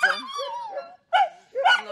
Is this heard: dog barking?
yes